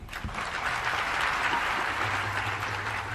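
Crowd at an evening satsang in an ashram claps together in a steady, continuous burst, fairly loud and close, with a low hum running underneath and no speech.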